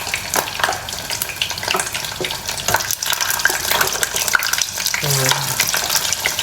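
Small, already-cooked sausages sizzle and crackle steadily in a hot pan, a close, busy frying hiss that runs throughout, with a brief spoken word near the start.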